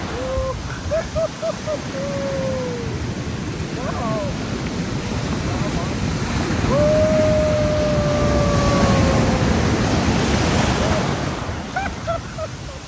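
Ocean surf rolls and breaks continuously on Hawks Bay beach in Karachi, a loud steady wash swelling midway, with wind noise and bright chirping calls scattered over the top.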